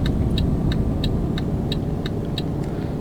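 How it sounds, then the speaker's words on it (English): A heavy truck engine in the driving game Euro Truck Simulator 2 holds a steady, loud rumbling drone throughout, with a light, evenly spaced ticking that repeats over it. No one speaks. "Just a nice relaxing sound of a truck engine as I quietly drive"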